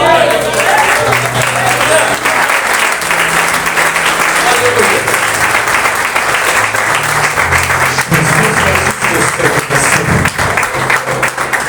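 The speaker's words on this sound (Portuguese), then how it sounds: "uma salva de palmas" A church congregation claps together through a worship service, sustained and fairly loud, with musical notes and voices going on underneath.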